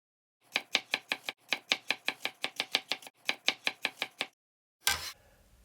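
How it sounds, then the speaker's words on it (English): Quick bursts of rapid knife chopping through celery stalks on a cutting board, close and crisp in three rhythmic runs, followed by a brief clatter and near silence. "Now we need to chop 2 stalks of Celery."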